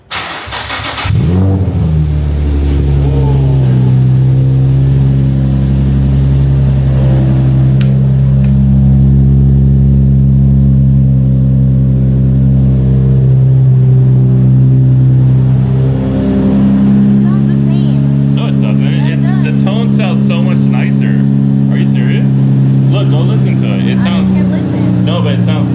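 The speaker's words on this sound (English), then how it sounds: "How does this exhaust sound?" Infiniti G35 with its VQ V6 engine and a Flashark racing exhaust starting up and revving, a loud deep droning exhaust note that holds steady for a long stretch, with people talking over it near the end.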